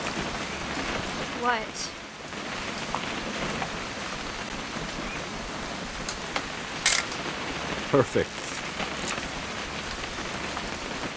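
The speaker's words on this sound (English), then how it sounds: "It's gonna rain the whole weekend, isn't it?" Steady rain falling in the video game What Remains of Edith Finch, a continuous hiss across the whole scene, with people talking briefly and a camera-like click near the end.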